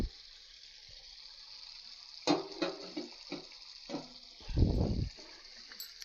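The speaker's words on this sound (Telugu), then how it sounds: "ఇప్పుడు మనం ఇందులో వాటర్ పోద్దాం" Water is poured into a pan of simmering fish curry, a soft sizzle running underneath before a short, close gush of liquid near the end.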